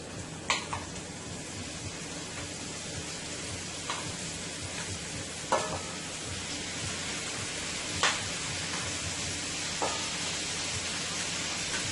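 Pickle-cured pork frying in a pan gives a steady, soft, rain-like sizzle, broken by a few sharp pops and crackles spaced several seconds apart.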